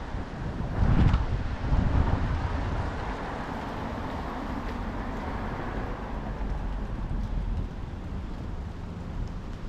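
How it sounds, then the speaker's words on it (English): Light wind buffeting the microphone in soft rumbling gusts, strongest near the start, then settling into a steady low whoosh. "very light gusts here this morning."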